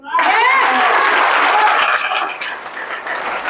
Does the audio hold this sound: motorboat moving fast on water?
no